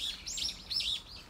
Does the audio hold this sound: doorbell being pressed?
no